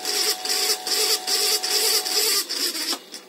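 An electric motor is running with a loud, abnormal noise: a harsh, rhythmic grinding buzz that pulses in quick repeated bursts, heard up close with no voices.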